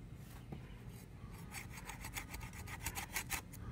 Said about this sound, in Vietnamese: Mình cưa vẫn được nha.